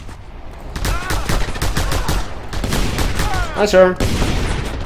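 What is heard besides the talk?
gunfire shooting at the player in video game Just Cause 2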